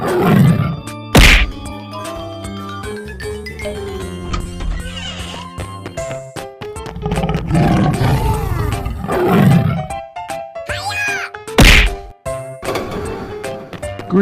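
A cartoon tiger roars loudly in long, repeated bursts, with a couple of sharp hits breaking up the roars.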